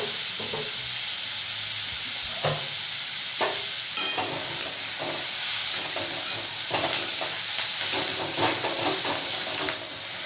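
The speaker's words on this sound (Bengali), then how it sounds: "এখানে কিছুটা পরিমাণ গোটা জিরে দিয়ে দিলাম" Whole cumin seeds sizzle steadily in hot oil for paneer masala, a continuous close frying hiss broken by occasional soft stirring clicks, with no talking.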